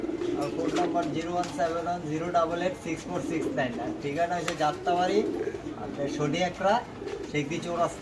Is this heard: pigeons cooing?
yes